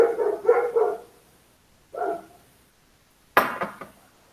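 A dog barks in three separate bursts with quiet gaps between them: a quick run of barks, then a single bark, then a sharper, louder bark near the end, all fairly close.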